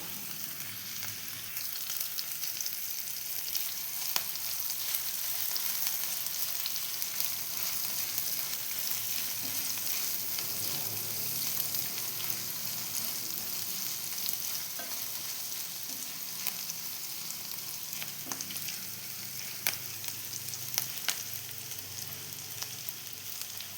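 Green chillies fry and sizzle in oil in a pan while potato vada is being made, a steady, soft crackling hiss with scattered small pops and no talk.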